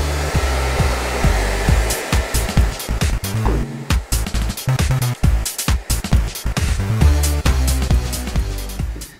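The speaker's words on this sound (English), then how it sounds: "following up with the heat of the blow dryer. So let me turn on" A blow dryer roars steadily up close, its whine broken by frequent clattering bumps and handling noises.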